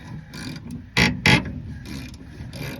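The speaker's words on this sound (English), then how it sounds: "grab the old ratchet. Spin her off." A ratchet wrench spins a bolt off in the engine bay of a 1959 Chevrolet Bel Air, giving close metallic clicking and rasping with two louder sharp bursts in the middle, over a low background hum.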